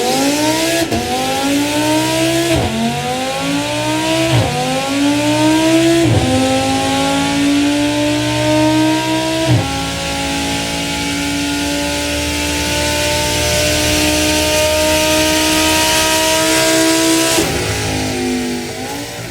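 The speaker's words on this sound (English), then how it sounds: "there are few things in this world that sound better than a naturally aspirated V10 at full chat" Audi R8 with a 5.2-liter naturally aspirated V10 at full throttle, loud and close, climbing through several gears in rising sweeps with quick shift breaks, then holding a long high wail before easing off.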